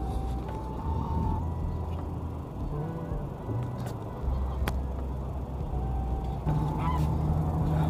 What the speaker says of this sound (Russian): здесь огромное количество гусей